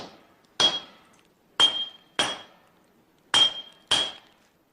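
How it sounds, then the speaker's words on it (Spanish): Hammer striking steel fragments for a katana at a forge, five sharp metallic blows with ringing decay, unevenly spaced and loud against near silence. "Bajo la atenta y experta mirada de Ghassan, el calor de la fragua y el constante martilleo aplastan los fragmentos hasta convertirlos en las piezas que integrarán la nueva espada"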